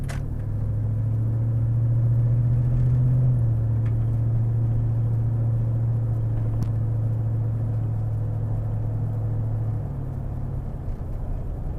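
Corvette pulling away at roughly 30% throttle, a steady low engine rumble with a gentle rise in pitch over the first few seconds that then holds an even drone, recorded from inside the car.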